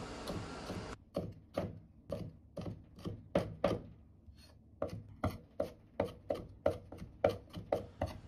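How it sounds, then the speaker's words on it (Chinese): Knife chopping red chili into small dice on a cutting board: a long run of crisp, evenly spaced taps, close and clear, with no talking. "改刀切成小丁。"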